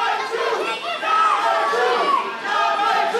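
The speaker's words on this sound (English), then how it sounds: "Now the crowd is mocking him, calling him number two." A crowd at an independent wrestling main event jeers and chants mockingly at a wrestler, a loud, continuous mass of voices rising and falling for a few seconds.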